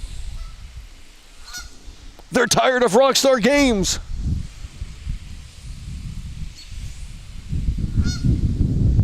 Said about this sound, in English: Why are the geese doing this?